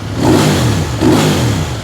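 A Kove 800 motorcycle engine revs hard twice close by, each loud throaty surge swelling and easing back in quick succession, with no talk.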